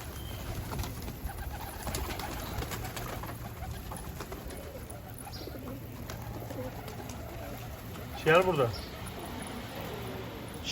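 Pigeons cooing near a rooftop coop, soft and faint under outdoor ambience, with one louder nearby coo and people talking.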